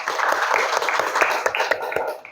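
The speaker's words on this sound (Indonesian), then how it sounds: "Beri tepuk tangan untuk Al dulu." Brief clapping from a small class of students for a classmate during a school lesson, a few irregular claps close by, tapering off at the end.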